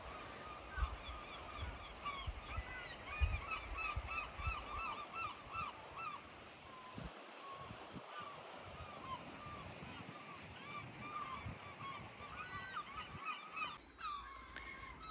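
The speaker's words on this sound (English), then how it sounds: "There's quite a lot of juvenile herring gulls in the water here." Many herring gulls, including juveniles, call repeatedly, honking and squealing over the wash of sea waves and wind on the coast, with a voice talking at moments.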